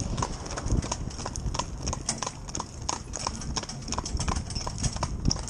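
Hooves of a horse driven in harness on a rubber bit, a steady rhythmic clip-clop on hard ground, close and clear throughout with faint background noise.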